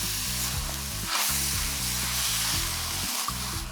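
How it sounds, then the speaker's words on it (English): Shiitake mushrooms and kale sauté in a pan with a soft, steady sizzle that runs throughout beneath loud background music. "Okay, so you've sauteed your mushrooms, add in the kale, saute it for a few more minutes."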